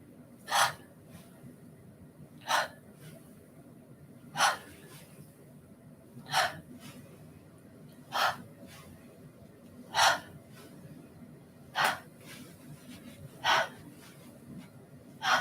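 Breathing during a slow qigong exercise, with sharp audible breaths recurring about every two seconds in an even rhythm over a faint, steady background.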